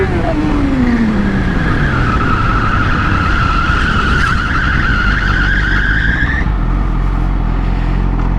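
Yamaha R6 motorcycle skidding and sliding, a loud, sustained tire screech over heavy wind and engine roar, rising and falling in pitch for several seconds, close to the rider's microphone.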